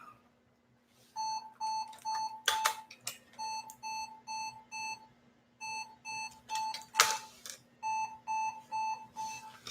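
A computer motherboard sounds its error beep codes, groups of short, shrill, evenly spaced beeps repeating with brief pauses, fairly quiet against faint background hum and clatter.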